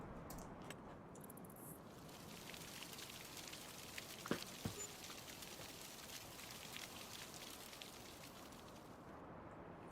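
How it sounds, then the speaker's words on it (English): Rain falls in the Farming Simulator 25 video game as a soft, steady hiss of drops with a few faint pops, quiet and continuous with no voices. "I did hear the rain."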